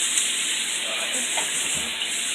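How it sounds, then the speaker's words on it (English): Chicken fries in a pan on a home kitchen stove, a steady, loud sizzling hiss that runs continuously throughout, with faint kitchen movement underneath. "that's my chicken frying if you hear it over there"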